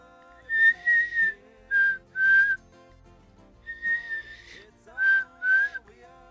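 A person whistles a clear, high two- and three-note birdlike song, repeated several times with short pauses, imitating a black-capped chickadee's call.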